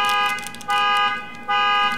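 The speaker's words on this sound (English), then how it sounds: "now we got past the neighbor's car alarm going off" A neighbour's car alarm blares nearby in loud, repeating tonal pulses with short dips between blasts, heard alone without talk.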